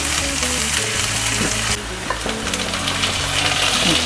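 Green chili, garlic, ginger and curry leaves stir-fried in hot oil for stuffed squid masala, a dense close sizzle with scraping spoon strokes and a few clinks, no voices.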